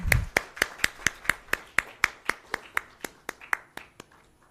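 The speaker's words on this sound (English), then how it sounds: "Shall we have a good round of applause, ladies and gentlemen?" Clapping at the official launch event for a hearing aid in Sri Lanka: a steady, evenly spaced run of sharp hand claps, close and clear, slowly fading over about four seconds with no talk.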